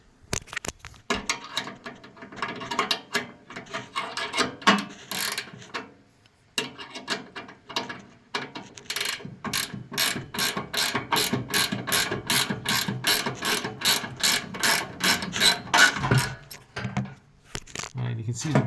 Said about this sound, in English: I'm going to get these tightened down